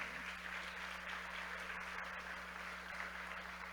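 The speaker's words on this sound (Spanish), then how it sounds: "denle un aplauso al Señor" Church congregation applauding in praise, a steady wash of clapping at moderate distance with a constant low electrical hum underneath and no voices over it.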